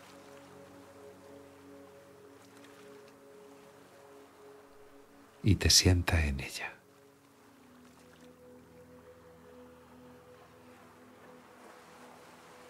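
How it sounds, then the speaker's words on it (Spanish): Gentle sea waves wash continuously in the background, soft and steady, while a voice briefly speaks over them midway. "La conversación continúa con el sonido de la ola del mar de fondo."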